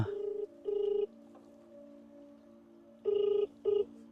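Telephone ringback tone during a phone call, two pairs of short electronic ring bursts separated by a pause, clear and alone over faint background hum.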